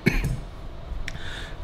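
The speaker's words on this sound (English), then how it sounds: "Cough is still there." A single person coughs twice in quick succession, close and fairly loud, followed a moment later by a softer throat sound, with no talking around it.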